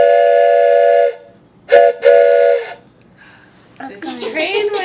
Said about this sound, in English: It's a train whistle.